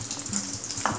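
Food frying in hot oil gives a steady, close crackling sizzle with no pauses and no voices.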